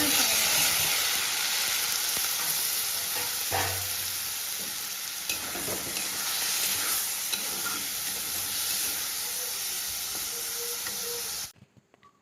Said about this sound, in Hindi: प्याज थोड़ा सा गोल्डन ब्राउन हो चुके हैं तो मैं डाल देती हूँ अभी टमाटर